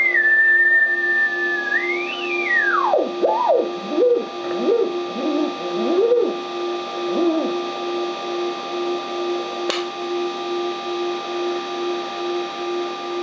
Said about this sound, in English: First we have to zero beat the transmitter with our receiving